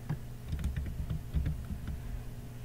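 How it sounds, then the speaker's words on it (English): Fingers type a password on a computer keyboard, a short quick burst of close, light key clicks in an uneven rhythm with no talking. "Type in your password"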